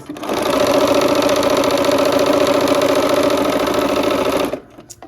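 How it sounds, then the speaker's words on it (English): A sewing machine stitching quilt pieces one after another, running in a steady, fast, continuous whir for several seconds, close and loud, then stopping abruptly. "Okay, here we are at the machine. We're going to go ahead and assembly line stitch this."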